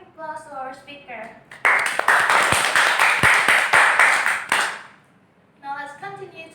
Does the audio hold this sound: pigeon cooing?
no